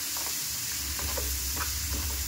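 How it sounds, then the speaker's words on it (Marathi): Chopped onion is tossed in hot oil for a dry soya curry, giving a continuous sizzle with a few quick spatula scrapes. "आता हे एकदा आपण परतून घ्यायचं, जेणेकरून कांद्याला सगळा तेल लागला जाईल"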